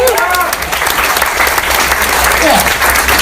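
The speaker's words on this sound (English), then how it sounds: "Let's give her a round of applause" At a stand-up comedy show in London, the audience breaks into loud, dense applause with cheering mixed in, a continuous roar of clapping close up and filling the room.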